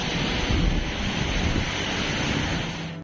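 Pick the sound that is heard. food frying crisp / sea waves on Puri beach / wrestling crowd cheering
sea waves on Puri beach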